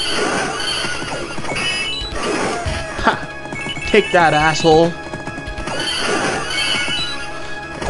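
A horse in the arcade game Knights of the Round gives a loud, shrill whinny mid-clip amid clip-clopping hooves, clashing combat effects and game music, with someone talking over parts of it.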